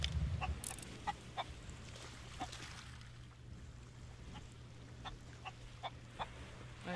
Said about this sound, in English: There's a bunch of chickens.